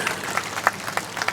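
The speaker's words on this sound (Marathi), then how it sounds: "टाळ्या वाजवा त्यांच्यासाठी." Audience clapping at a temple consecration honour ceremony for Shri Riddhi Siddhi Mahaganapati in Mangalvedha, a brief spell of dense, steady applause from a crowd heard at moderate distance.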